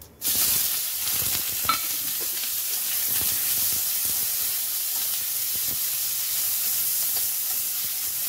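Bay leaf and cumin seeds hit hot oil in a pan and sizzle loudly and steadily up close, a bright continuous hiss with small crackles.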